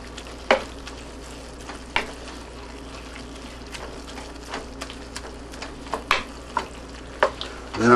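Ground meat fries in a pan with a splash of Worcestershire sauce, a soft steady sizzle broken by a dozen or so sharp scraping stirs at irregular intervals, close and fairly quiet, with no voices.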